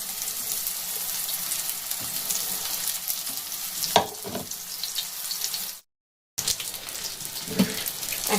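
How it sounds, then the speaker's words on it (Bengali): Long-cut eggplant pieces frying in oil, a continuous bright sizzle with a couple of clattering stirs or flips, broken by a brief silent gap before the crackling resumes. "এইভাবে এরকম করে ভেজে নিতে হবে।"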